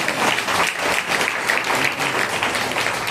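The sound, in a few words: congregation clapping loudly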